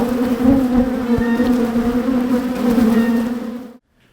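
Honeybees buzz steadily and close around beehives, a dense droning hum that holds for several seconds and then cuts off abruptly near the end.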